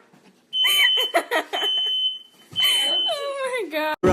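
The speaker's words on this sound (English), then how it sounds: "She let off the smoke alarm with popcorn." A home smoke alarm set off by popcorn beeps in a high, piercing tone that cuts in and out, with people talking and laughing over it at close range.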